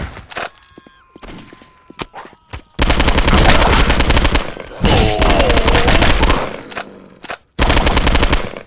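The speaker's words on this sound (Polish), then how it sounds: "Strzelam!" Gunfire from the game Postal 2 at a construction site: a few scattered sharp shots and clicks give way to long, loud sustained bursts of rapid fire, broken by brief pauses and a final burst.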